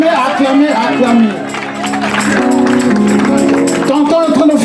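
Wedding guests cheer and applaud in a lively crowd, with voices, claps and a sung or chanted line running throughout, fairly loud and close.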